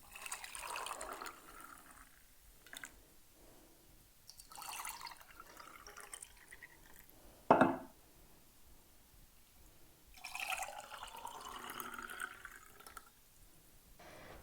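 Homemade dandelion mint juice poured into glass jars, a soft liquid trickle running through most of the stretch with one sharper clink or splash midway, recorded close and quiet with no talking.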